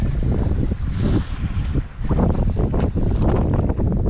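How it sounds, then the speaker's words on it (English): Strong wind roars and buffets the microphone steadily throughout while kayak fishing at sea, with broadband gusty rumble and possible water slapping beneath, no clear speech. "Oh, this wind is horrible."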